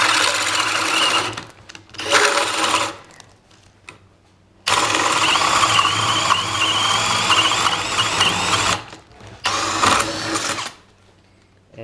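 A carbide hole saw cuts through a large wood knot in bursts, a loud high whirring drill spinning for several seconds at a time with short pauses between runs.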